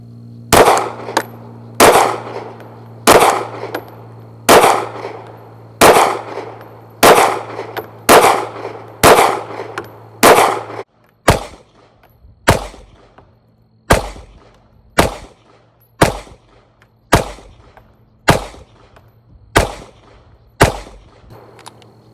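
A Canik Mete MC9 9mm pistol fires 135 grain hollow points at an outdoor range, about twenty loud sharp shots in a steady rhythm, each with a short ringing tail, and no voices.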